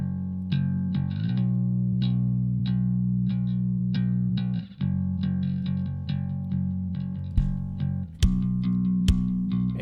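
Heavily distorted music mix with sustained saturated chords and a driving rhythmic pulse, loud and dense throughout, briefly dropping out near the middle and again toward the end.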